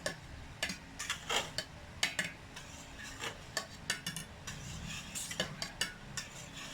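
A leche flan custard mixture is stirred and whisked in a bowl, giving a steady run of close, light clinking and scraping strokes at an uneven rhythm, with no talking.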